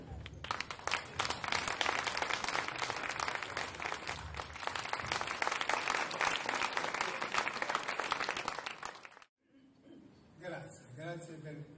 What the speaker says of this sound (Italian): Grazie degli applausi.